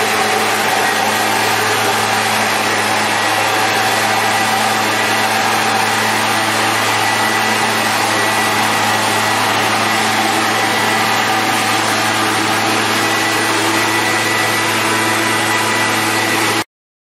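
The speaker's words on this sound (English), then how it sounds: "I find the easiest way is just to use a leaf blower" A small engine-driven leaf blower roars continuously and loudly at close range over a stamped concrete patio, a steady high-pitched motor whine with a low hum, then cuts off abruptly.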